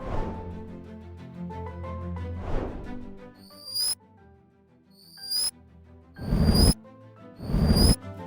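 A bottle rocket whistle, reversed and pitch-shifted up, plays as repeated rising tonal sweeps that swell in loudness and end abruptly, like falling bombs, with four bright, noisy bursts in the later half.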